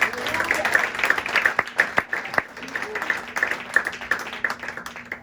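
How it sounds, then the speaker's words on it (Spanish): Applause from a Pentecostal church congregation, a moderate, steady patter of hand claps over about five seconds, with a low organ or keyboard tone held beneath and some voices mixed in. "Den un aplauso fuerte al Señor."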